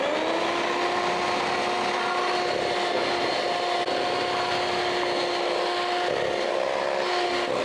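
An electric mixer beats half a cup of butter with sugar for papaya cake batter, a continuous steady whirring motor drone, close and loud, without talking.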